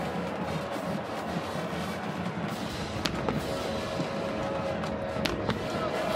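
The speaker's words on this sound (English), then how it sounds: "Fire those cannons here on senior day. Boom!" Cannons fire at an Army college football game on senior day, a few sharp booms cutting through a constant roar of the stadium crowd.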